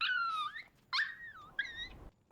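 Dog whimpering in the game Never Alone: three high, whining cries with pitch slides, each short and close, separated by brief quiet gaps, no speech.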